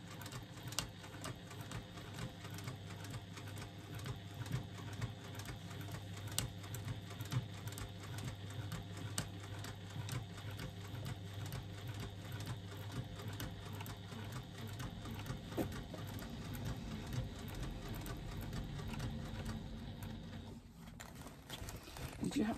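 A sewing machine stitches the bottom seam of a zippered pouch in a rapid, steady mechanical patter that runs nearly the whole time, faint, with a brief pause near the end.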